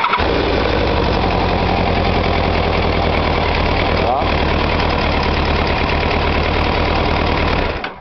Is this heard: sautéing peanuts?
no